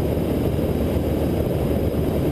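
Steady, loud engine drone and rushing air inside the cabin of a general aviation airplane in flight, a constant low roar with no breaks.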